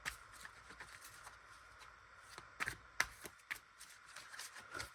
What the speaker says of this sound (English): We're almost done shuffling.